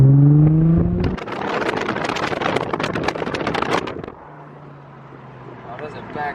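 A Nissan 350Z with a Tomei exhaust idles close by, then pulls away with a loud, raspy rev and acceleration lasting a few seconds before settling to a steady cruise with wind noise.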